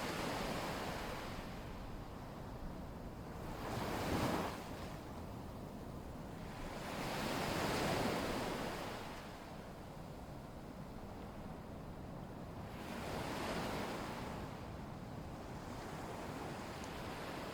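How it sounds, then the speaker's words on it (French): Ocean waves cross a lagoon reef and roll onto the shore, three or four soft swells rising and fading at a slow, regular pace over a constant wash of wind and surf. "Les vagues arrivent du large, traversent le récif, arrivent jusqu'à vous, douces, régulières,"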